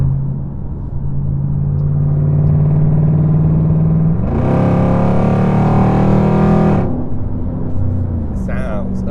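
A Dodge SRT or Hellcat Mopar V8 drones at low revs, then roars loudly under hard acceleration for a few seconds before settling back down, heard close from inside the car.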